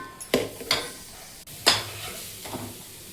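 Grated carrot cooks in ghee in a pan while a spoon stirs it, giving a soft sizzle under several distinct scraping strokes spaced about a second apart.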